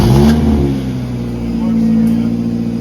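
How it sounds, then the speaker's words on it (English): A car engine, its exhaust homemade and welded with a cheap welder, starts and revs, rising and holding with a rough, loud buzzing drone through the exhaust while voices talk over it. "go ahead and get this car started"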